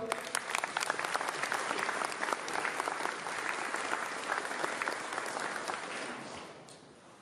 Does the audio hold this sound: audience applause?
yes